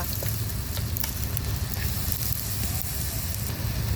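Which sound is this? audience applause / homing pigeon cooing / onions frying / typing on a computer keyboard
onions frying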